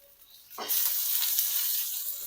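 Alu vadi, colocasia leaf rolls, frying in a pan with a little oil, a quiet start before a sudden loud, steady sizzle that holds on without a break.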